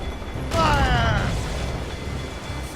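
Ship cannon broadside in Assassin's Creed Rogue: a heavy booming burst rumbles out with creaking mechanical noise, loud and close, then a sustained low roar trails off beneath shouted voices.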